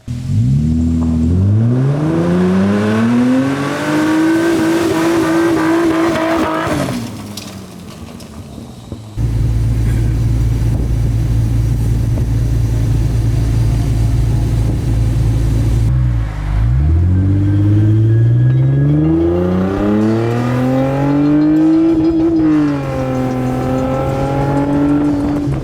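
A Nissan G35 drift car with a welded differential revs its engine loudly, the pitch climbing and holding high, then drops to a deep steady idle before climbing through another rising rev as it pulls away, all close and without talk.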